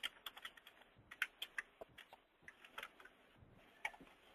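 Fast, uneven typing on a computer keyboard while entering a terminal name into a point-of-sale system, with crisp close key clicks and brief pauses, faint and alone without talk.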